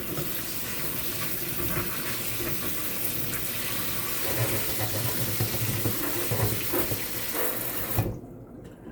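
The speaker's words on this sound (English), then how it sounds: "Let's run some cold water over this again." Cold water runs from a kitchen tap over beans being rinsed, a steady close splashing stream that stops abruptly near the end.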